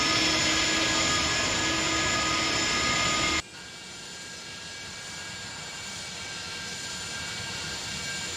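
Jet engines of an iniBuilds A300-600R(F) in X-Plane 11, a loud steady whine and roar that cuts abruptly to a quieter, more distant engine hum.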